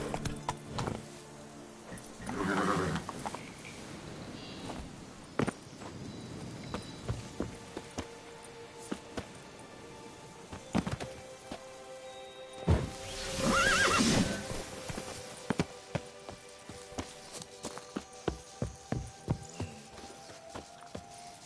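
Horse ridden in The Witcher 3: Blood and Wine, with a few whinnies and neighs over a steady run of clip-clopping hooves that grows busier toward the end, loud and close amid game ambience.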